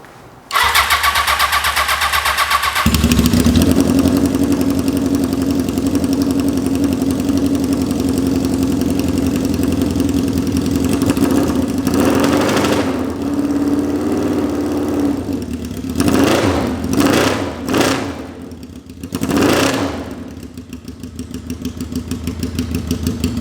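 A junkyard Honda CB750F motorcycle without its screamer pipe exhaust cranks and fires up, then settles into a loud steady idle before several sharp throttle revs rise and fall near the end.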